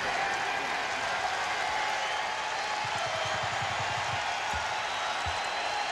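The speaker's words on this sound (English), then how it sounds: "and the crowd now on their feet." A basketball arena crowd roars and applauds steadily at an NCAA tournament upset, West Virginia over Duke, a dense wash of cheering and clapping heard from within the stands, with faint thumps underneath.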